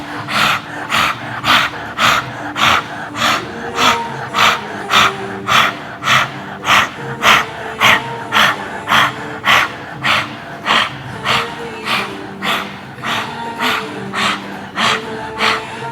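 Forceful rhythmic yogic breathing with the tongue out during a Kundalini kriya, a steady run of about twenty-five loud, close panting breaths with a raspy throat vibration, evenly paced throughout.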